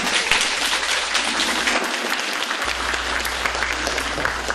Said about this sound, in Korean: 이 대목에서 반드시 박수가 나오게 되어 있습니다.